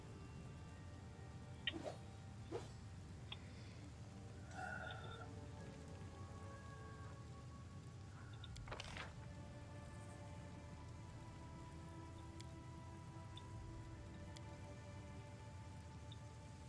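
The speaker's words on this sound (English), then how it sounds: "It's raining blood." Soft rain patters steadily in the Wrath of the Righteous game world, a faint continuous hiss with a few sharp ticks and clicks scattered over it.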